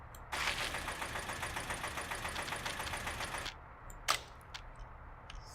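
A tractor engine in the simulation game Workers & Resources runs for about three seconds with a loud, rough, rapidly pulsing drone, then cuts off, leaving faint background hum and a brief knock.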